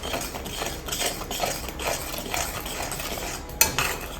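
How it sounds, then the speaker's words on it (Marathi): A spoon stirs jeera masala sharbat mixture in a pot, giving rhythmic scraping swishes against the metal, close and steady, with one sharper clink near the end. "याला ढवळत राहायचं जोपर्यंत असं चाशणीसारखं तयार होत नाही ना तोपर्यंत याला असंच ढवळत राहायचं."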